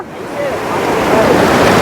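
A river rushes past nearby, giving a loud, broad roar of turbulent water that swells slightly over the moment, mixed with wind buffeting the microphone.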